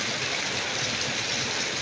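Steady rain pours down outdoors in Thailand, a dense, even hiss with no distinct drops or voices, moderately loud and unbroken throughout.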